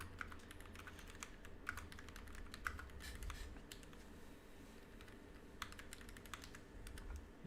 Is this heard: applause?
no